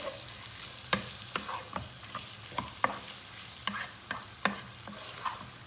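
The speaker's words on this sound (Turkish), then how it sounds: "Şöyle etim de güzelce kavrulsun arkadaşlar" Meat sautéing in a pan, with a soft steady sizzle under a series of sharp metallic scrapes and taps from a spatula, spaced irregularly about every half second to a second, close and alone.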